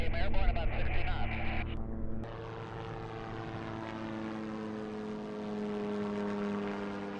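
Steady propeller and engine drone of the Terrafugia TF-X flying car lifting off a runway, loud and close at first, then dropping to a lower, even hum as it climbs away, with a brief voice over the noise.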